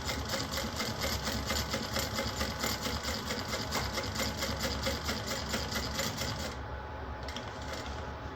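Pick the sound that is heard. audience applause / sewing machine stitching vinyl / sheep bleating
sewing machine stitching vinyl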